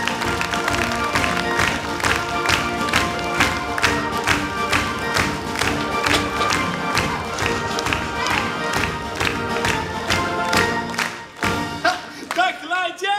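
Crowd at a Samson & Marie summer show at Plopsaland De Panne applauding and cheering for fireman Bill, loud rhythmic clapping in time over music, breaking off near the end.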